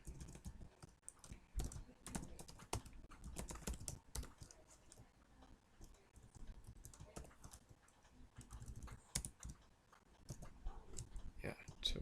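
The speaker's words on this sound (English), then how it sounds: "I think I'm going to type everything." Keys clatter on a computer keyboard in quick, uneven bursts of close, soft clicks, with short pauses between runs of typing.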